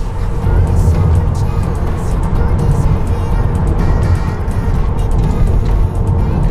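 Tesla Model 3 accelerating hard, heard from inside the cabin as a loud, steady roar of road and wind noise that holds throughout.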